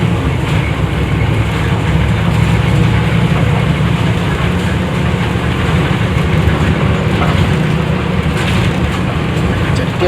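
A TransJakarta bus on corridor 4K runs along the busway lane toward the Jatinegara flyover stop, giving a loud, constant engine and road rumble with rattling body noise throughout and no pauses.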